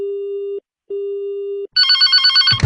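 A telephone rings with two steady tones broken by a short gap. A harsher, trilling electronic ring follows, then cuts off with a brief thump near the end.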